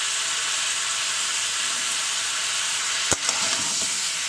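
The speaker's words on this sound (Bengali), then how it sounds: "দিয়ে আবার এটা ভালো করে কষিয়ে নেবো।" Tilapia with salt and turmeric sizzling in a pan over low gas, a steady close hiss with one sharp clatter of stirring near the end.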